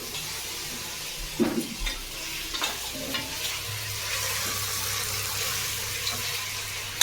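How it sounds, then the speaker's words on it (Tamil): Tomatoes sauté in a pan during home cooking, giving a steady sizzle throughout, with a spoon scraping and stirring in soft irregular knocks near the start. "தக்காளி வதக்குது"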